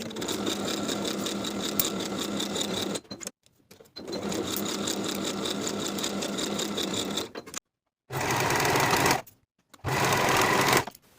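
A sewing machine stitches the side seams of a midi skirt's flounce at 3/8 inch, running in steady whirring bursts separated by short silent pauses, close and alone.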